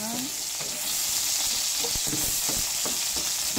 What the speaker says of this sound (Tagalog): Igisa sa onion o sa bawang or ang tofu na golden brown naman ni siya.